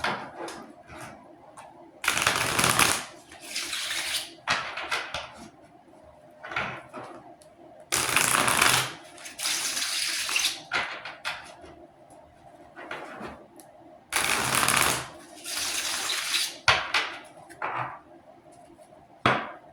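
Tarot cards being shuffled for a Celtic cross reading, heard as repeated bursts of riffling and cascading cards roughly every six seconds, close and fairly loud, with softer handling and tapping sounds between the bursts.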